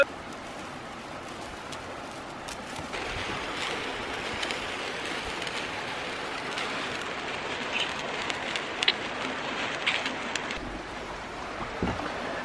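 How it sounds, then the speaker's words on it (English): Steady rain falls outside a house in Wales, a continuous close hiss of drops pattering on surfaces with no break throughout. "It's raining."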